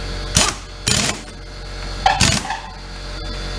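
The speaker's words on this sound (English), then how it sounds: "Get your nuts started before you use the rattle gun." Short bursts from an air impact wrench spin on the clutch nuts of a Kymco Chinese scooter. There are three or four quick rattling blasts with pauses between them, close and fairly loud.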